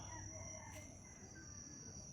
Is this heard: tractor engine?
no